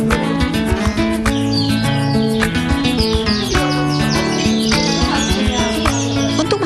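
Canaries kept for breeding chirp and trill continuously and loudly, with many overlapping bright whistles and rapid tweets layered over a dense, busy backdrop.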